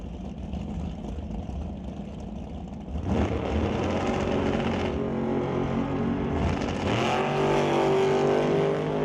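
Drag race cars, a 1967 Chevy II and a 2018 Miller dragster, roar loudly and continuously at the track, the engine noise swelling sharply partway through as a car launches and pulls away.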